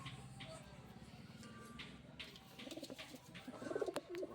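Pigeons coo softly nearby in a low, rolling rhythm, faint and steady, with someone speaking over them.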